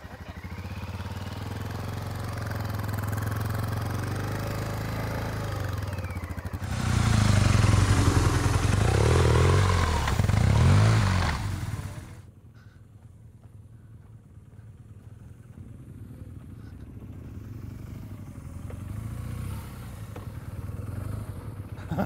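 An off-road motorcycle at a riding clinic in Colorado, its engine droning steadily, swelling louder as the throttle opens for several seconds, then dropping to a quieter, more distant running sound.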